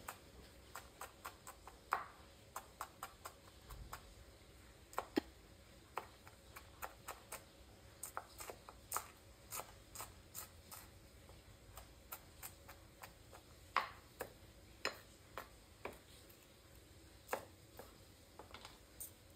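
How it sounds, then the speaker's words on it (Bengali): Green chilies being chopped with a knife on a cutting board while soup ingredients are prepared, heard as quiet, fairly regular taps in loose clusters, close but faint, with no talking. "এখন করবো কাঁচামরিচ কুটি।"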